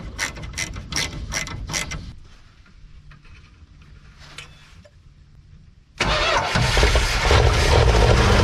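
A ratchet clicks rapidly and close while bolts are tightened on an abandoned 1972 Plymouth Fury, then goes quiet before a loud, continuous mechanical roar cuts in and holds.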